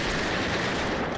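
Continuous automatic weapon fire in the VR wave shooter Operation Serpens, a loud unbroken rattle of close shots.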